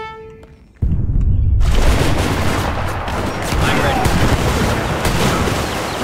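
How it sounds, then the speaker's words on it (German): Artillery cannons firing in the strategy game Age of Empires 3, a dense, loud barrage of booms and gunfire rumbling continuously after a brief game chime, with a voice speaking over it. "Klasse, meine Kanonen."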